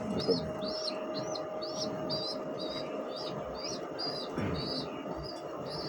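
Young pigeons in a loft call with a quick series of about a dozen thin, high chirps at a steady rhythm, close and fairly clear over a low background hum and rustle.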